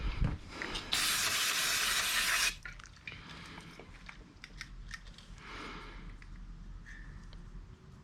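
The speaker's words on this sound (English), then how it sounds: "We're gonna throw the brake clean down inside." Brake cleaner sprayed into a push mower carburetor: a loud hissing blast of about a second and a half, followed by quieter drips, faint handling noises and a softer hiss.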